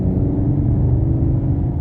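Low, steady rumble of a 2022 Chevrolet Camaro LT1 V8 engine and exhaust cruising, a close, dense drone with no talk.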